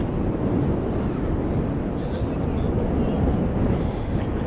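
A Super Speedbird airliner taxiing under its own power at night at DFW Airport, a broad steady engine roar and rumble heard from a distance with wind buffeting the microphone.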